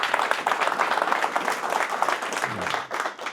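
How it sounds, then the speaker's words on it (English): Crowd applause for competitors at an asphalt construction rodeo, brisk clapping from a group lasting a few seconds before tapering off, with a faint voice near the end. "So let's give those guys a round of applause."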